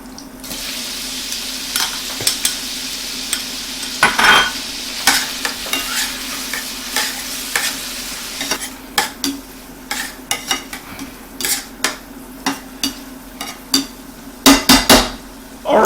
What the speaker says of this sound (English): we're going to go ahead and we're going to saute our lobster in there just to infuse the butter